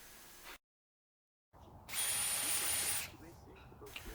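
Electric drill fitted with an auger bit boring into potting soil in a garden pot, a loud steady whirring burst of about a second, with quieter rustling before and after.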